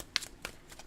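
A tarot card deck being shuffled: two quick, soft riffles close by, each a short papery flutter, in an otherwise quiet room.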